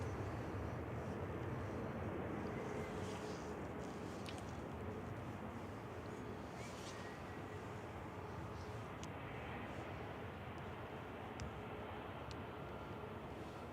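A Ryanair jet inbound from Dublin to Manchester Airport gives a faint, steady distant engine roar that holds evenly throughout, with no voices.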